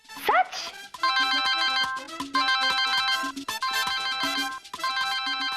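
A phone ringtone for an incoming call plays in a bright, repeating electronic melody, with a short burst of speech at the start before the tune loops several times.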